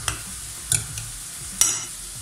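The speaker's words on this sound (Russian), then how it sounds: "выливаю свою заправку," Grated carrot salad being stirred with a poured dressing, a few close wet scraping strokes in quick succession, no talk.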